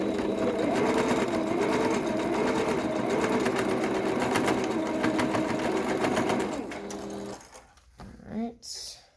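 A sewing machine back stitching a fabric face mask runs in a steady, fast, close mechanical whir for several seconds, then stops, with a person speaking over the motor and briefly after it falls quiet.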